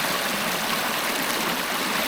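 Creek water flows past ice formations, a dense, steady rushing and gurgling wash that fills the whole stretch close-up with no voices over it.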